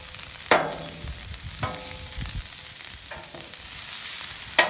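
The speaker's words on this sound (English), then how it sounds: "Ooh, sizzle, sizzle." Steady sizzling of meat frying on a hot Blackstone griddle for Philly cheesesteaks, close up, with a few sharp scraping clicks of a utensil and no voices.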